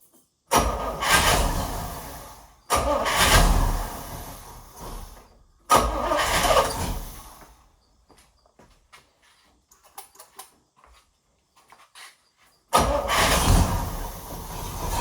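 The big block V8 of a 1972 Chevrolet Nova cranks and fires in three loud bursts that each roar briefly and die, with a pause of quiet fiddling before a fourth attempt catches.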